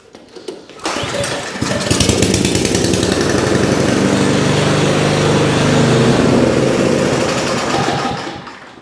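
Ariens snowblower engine starting with a pull, then catching and running loud and steady at close range with a buzzy, chattering idle that holds for several seconds before easing slightly near the end.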